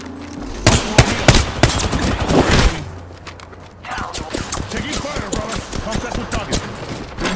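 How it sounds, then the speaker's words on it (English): Video game gunfire in rapid bursts, loud sharp shots and automatic fire close up, a brief lull and then more dense shooting, with a voice talking amid the fire. "Down. Taking fire, brother."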